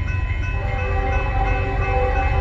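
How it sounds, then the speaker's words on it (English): Union Pacific double-stack freight train passing close by, a loud, steady low rumble with ringing steel tones and a high whine sustained throughout. "the stack train behind me has UP 1996"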